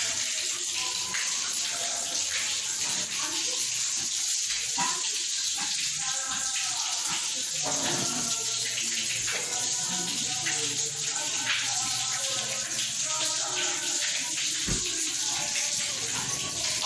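Water runs steadily from a tap during an electric geyser installation, a continuous splashing gush with small drips, close and loud, with no talk over it.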